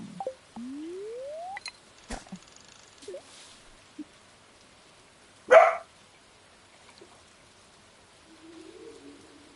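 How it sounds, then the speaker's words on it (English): Several dogs indoors bark sharply at someone outside, a loud burst standing out against otherwise quiet surroundings with a few faint scattered knocks. "My dogs are hearing somebody outside and they want to let me know how unhappy they are with that."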